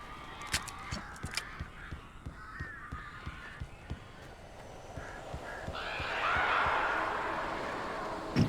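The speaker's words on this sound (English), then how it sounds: "A couple of them got in here before I blocked the chimney. This isn't normal. These birds are weird." Crows caw in the Alan Wake video game, a string of harsh calls over rhythmic knocking beats, followed by a rising whooshing swell near the end.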